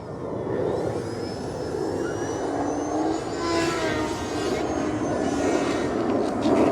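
A small 4-Site 3D flat foam RC airplane, 800mm span, performing aerobatic rolls, its electric motor giving a steady buzzing whine with pitch sweeps as it passes, heard continuously at moderate distance over outdoor wind noise.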